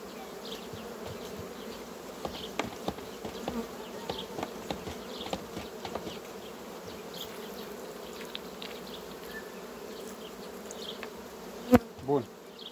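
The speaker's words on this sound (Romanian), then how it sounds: "Cam asta e tot această colonie frumoasă de albine" A honeybee colony, a Carpathian or Buckfast hive with a queen, hums in a dense continuous buzz up close, with occasional louder individual bees passing near and a couple of brief knocks toward the end.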